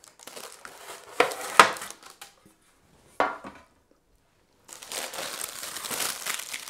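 Cherry and chocolate flapjacks lifted out of a metal baking tray, with a few sharp clinks and knocks among crinkling and scraping close by, a short quiet gap, then steady rustling.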